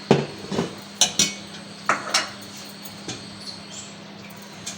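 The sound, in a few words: cooking pot taken off the stove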